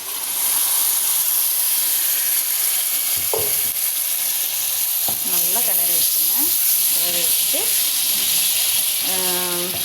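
Blended tomato, onion, garlic and ginger sauce poured into a hot pan for a fish curry, setting off a loud steady sizzle, with a voice talking intermittently over it in the second half.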